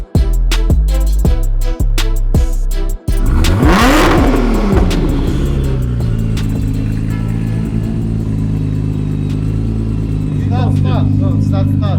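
A Nissan GT-R with aftermarket exhaust revs hard and close, throttle blips climbing and dropping in quick succession, then a long rising rev that settles into a loud, rumbling idle with some clatter.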